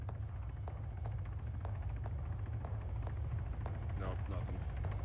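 In the game Arma 3, a helicopter's steady low rotor drone rumbles on while sharp scattered impacts and cracks of incoming fire hit around it, fairly quiet overall.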